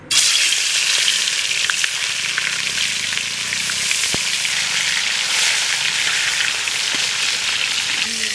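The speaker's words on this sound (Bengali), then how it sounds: "তেল গরম হয়ে গেছে, মাছ দিয়ে দিই।" Fresh pond fish fry in hot oil, village style, with a loud, steady, dense sizzle that starts abruptly and holds throughout, crackling with occasional sharp pops.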